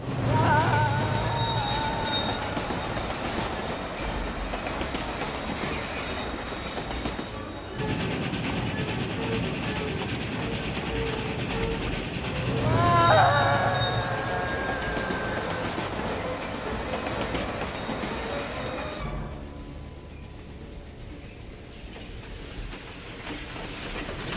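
A train pulls into a station, with a loud, steady rumble of rolling cars and repeated metallic wheel squeals, ending in a quieter, fading stretch.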